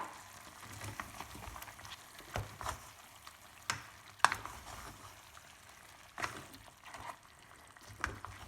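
Onion added to a pot of Rajasthani mutton (goat) curry, frying with a low steady sizzle while being stirred, with several sharp scraping and clinking strikes of a spoon against the pot spaced through the clip; no talk.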